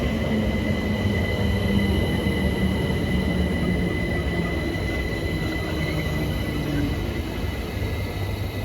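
A Class 378 electric train, unit 378136, departing a London station, its steady rolling rumble and rising motor whine heard close throughout, with faint wheel squeal.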